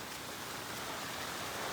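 Heavy monsoon rain falls through a forest on a waterfall trek, a steady, even hiss of downpour without breaks, fairly soft and distant in level.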